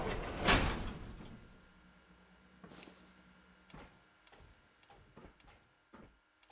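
A sliding door in the Fallout 4 video game opens with a sharp, loud whoosh, then a series of lighter mechanical clicks and thuds trailing off, with no voices.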